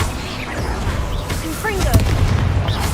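Confringo blasting spells go off in Hogwarts Legacy gameplay as loud, booming explosive blasts amid rumbling combat noise, with a voice heard over them.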